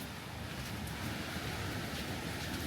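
Surf breaking at a beach in Wheatley Provincial Park, a steady broadband wash with no distinct individual wave crashes, mixed with wind rumble on the microphone and no talking.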